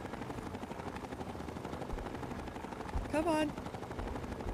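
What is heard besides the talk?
missile launcher firing in video game Fallout 3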